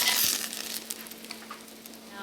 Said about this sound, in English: Okay, you hear that sizzle?